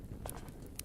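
Wolf footsteps in the survival game Subsistence, a few soft, quick padding steps close by over a low, steady background rumble.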